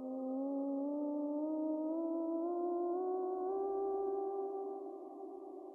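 A smooth synth tone from the EtherSurface/EtherPad app glides upward in small steps, a rising chromatic scale of close-spaced notes held at an even, moderate volume.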